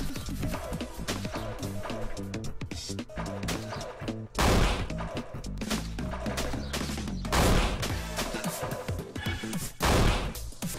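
Rapid repeated weapon fire from a homing bird cannon in a video game, a dense barrage of punchy shots and impacts with a few louder heavy blasts standing out.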